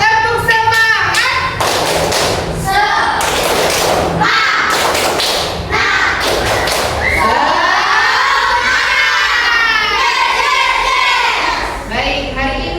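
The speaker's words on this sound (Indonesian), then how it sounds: "Kalau begitu kita tepuk semangat dulu, bisa?" Schoolchildren in an Indonesian classroom chant and clap together in a rhythmic spirit clap, sharp unison hand claps and thumps punctuating loud, lively group shouting and chanting, close and energetic throughout.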